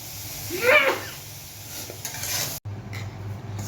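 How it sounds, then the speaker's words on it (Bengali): Dried fish goes into a pan of aubergine cooking in water, making a brief burst of hissing sizzle followed by stirring and scraping, then a short cut and more low sizzle. "এখন শুটকিগুলোকে ছেড়ে দেবে"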